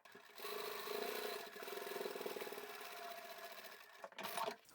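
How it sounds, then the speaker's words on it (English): Sewing machine stitching along the top edge of fabric for a small craft tote bag, a close, steady rapid mechanical whir that runs for several seconds, pauses briefly, then gives a short final burst, with no voices. "I've placed my needle down and I can sew to the end."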